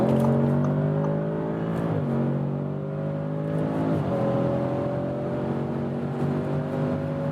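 An Audi S8 V8 luxury sedan accelerates hard on an unrestricted motorway at night after downshifting, its engine note climbing steadily with two sharp dips in pitch as gears change, loud and continuous from inside the cabin.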